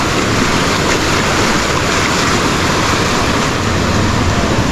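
Sea waves at high tide wash in as a steady, loud, broadband roar with no distinct breaks, mixed with wind buffeting the microphone and no voices.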